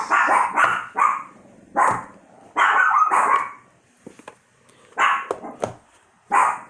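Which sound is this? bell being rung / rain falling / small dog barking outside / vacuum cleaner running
small dog barking outside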